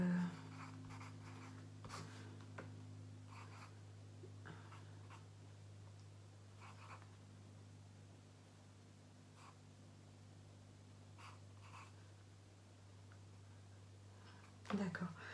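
Pen scratching across a sheet of paper in quiet bursts over a steady low electrical hum, close but faint, with occasional louder knocks and brief rustles.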